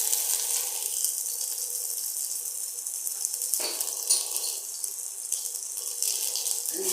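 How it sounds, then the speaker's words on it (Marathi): Ginger-garlic paste hitting a hot pan, a sharp bright sizzle that surges, dips, then flares again, close and loud with no talking. "आलं लसणाची पेस्ट घालत आहे."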